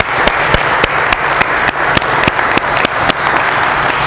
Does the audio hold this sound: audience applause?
yes